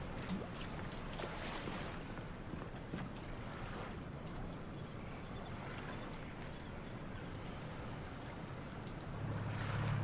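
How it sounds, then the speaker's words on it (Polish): A small boat cruises across water in Ultimate Fishing Simulator 2, with a steady low engine drone and wind-like rushing noise carrying on evenly throughout. "Tu jest łódka."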